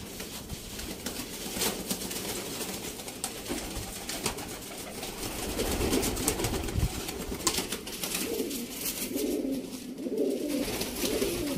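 Sialkoti pigeons coo in a dense, overlapping murmur of low throaty calls, close by and continuous, rising a little louder partway through.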